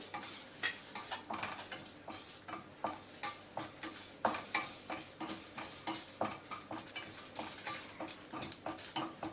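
Mustard seeds splutter in hot oil in a pan for rasam, giving quick, sharp crackles and pops in an uneven stream, mixed with light scraping as the seeds are stirred and no talking.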